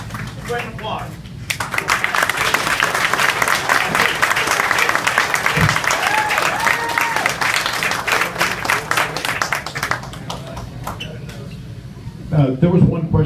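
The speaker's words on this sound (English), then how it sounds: "Great applause." An audience at a mayoral forum in Apache Junction breaks into a sustained round of clapping, starting after a brief pause and continuing steadily for about ten seconds before tapering off.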